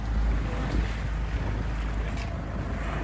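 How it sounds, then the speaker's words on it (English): Choppy water slapping around a Com-Pac 23 sailboat with the tide going out, under heavy wind noise buffeting the microphone, a continuous rough rumble with no voices. "Got the tide going out, the waves coming in."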